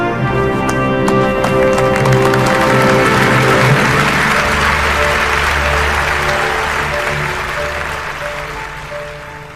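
Loud, dense applause from a conference audience in a school setting, the Annual Devolution Conference at Makueni Boys High School, sustained and gradually fading toward the end, with a faint tonal background underneath.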